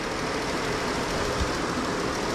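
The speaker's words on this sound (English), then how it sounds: "Your cooling fans are turning on." A car engine idles steadily while overheating from a thermostat stuck closed, its electric cooling fans whirring along with it, a continuous broadband hum close by with no speech.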